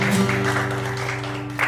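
A church congregation claps together during a Sunday worship service, a steady wash of applause over sustained musical tones, continuing evenly throughout with no voices.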